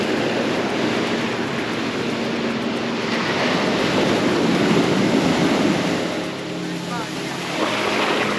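Long, slow ocean waves roll onto a Phuket beach, giving a steady, close wash of surf noise that swells slightly midway and never pauses.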